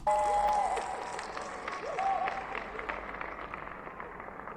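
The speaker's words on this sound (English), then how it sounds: "So the crowd atmosphere I have sounds like this." Crowd ambience sample meant for layering under a music track's drop: a dense, steady wash of audience noise with scattered clapping and cheering, loud at the start and easing slightly over a few seconds.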